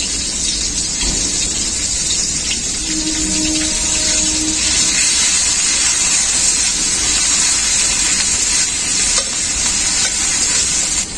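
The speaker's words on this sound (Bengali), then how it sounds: "পেঁয়াজ আর টমেটোটাকে তেলে খুব ভালোভাবে ভেজে নিয়েছি" Onion paste and tomato frying in oil for a river fish curry, a loud, dense, continuous hiss of sizzling that holds steady throughout at close range, with no speech.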